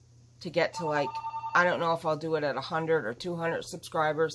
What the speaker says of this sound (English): pardon the phone ringing